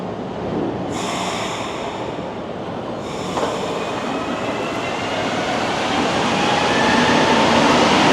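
A long Montreal Metro subway train of nine cars rumbles loudly and steadily, with brief hissing bursts early on and the noise building toward the end.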